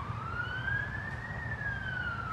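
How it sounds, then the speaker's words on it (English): A police and ambulance siren wails steadily as it passes, its pitch rising and then falling, with a low rumble of traffic underneath. "there are sirens going by, police, and ambulances going by"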